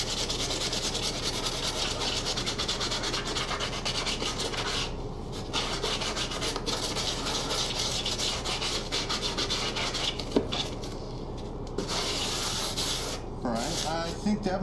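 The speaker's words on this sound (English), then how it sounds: "it sands down the styrofoam pretty good" A 3M 60-grit coarse sanding sponge rubbing over styrofoam, giving a loud, continuous scratchy rasp with brief pauses between strokes.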